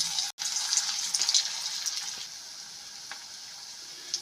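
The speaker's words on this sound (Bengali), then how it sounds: "এদিকে তেল গরম হয়ে গেছে আমি একটা একটা করে বলগুলো ছেড়ে দেব" Dough balls made from leftover roti dropped into hot oil, giving a close, hissing sizzle that is busiest in the first seconds and then settles into a steadier, softer crackle.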